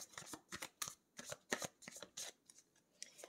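Tarot cards being shuffled for a reading, a run of crisp riffling bursts in quick irregular succession, close and fairly quiet with no talking.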